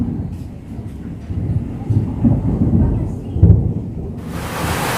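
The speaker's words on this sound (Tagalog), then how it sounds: "Lakas ng ulan dito guys." Heavy rain pours down steadily during a thermostat replacement on a Mitsubishi Montero Sport, a loud continuous roar with dull thumps close by and a brighter hiss of rain near the end.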